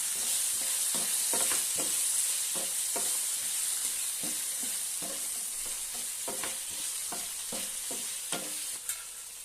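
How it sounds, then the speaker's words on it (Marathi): Potatoes with turmeric sauté in a pan, giving a loud continuous sizzle broken by repeated rhythmic scrapes of a stirring spoon, heard close with no talk. "आणि हळद घालूया छान त्याची परतून घेऊया"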